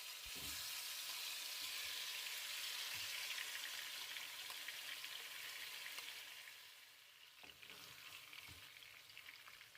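Chicken dropped into onion-flavoured oil fries with a bright, steady hiss that eases off partway through, with a few soft stirring knocks, close but quiet, with no talk.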